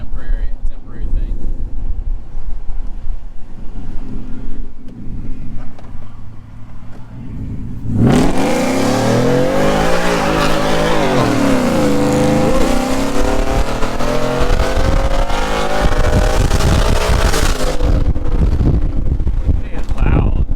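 A 2016 Mustang's loud exhaust with a broken-in muffler roars to life after a windy, muffled stretch, a heavy close revving blast that holds for about ten seconds before cutting off.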